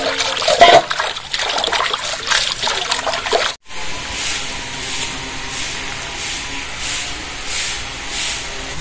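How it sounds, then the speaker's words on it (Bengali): Cut spinach greens washed in water in a bowl, with close splashing and trickling at first, then a gentler run of rhythmic swishes and dribbles after a brief pause. "শাকগুলো এইভাবে কেটে নিয়েছি, এবার ভালো করে ধুয়ে নেব।"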